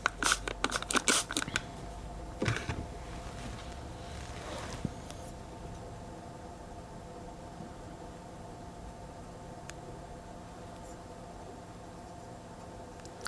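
Yasaka hair-cutting shears snip through wet tissue in a quick burst of crisp metallic cuts, followed by a few more isolated snips, close up over quiet background hiss.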